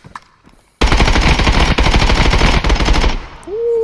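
Sustained 5.56x45 automatic fire in a video game, a loud continuous burst of rapid shots lasting about two and a half seconds before cutting off, followed by a brief tail of quieter ambience.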